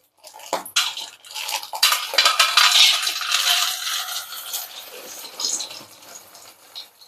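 Roasted chana being rubbed and kneaded by hand to strip off their skins: a dry, crackly rustle and clatter of the hard chickpeas shifting together, close and continuous with uneven swells.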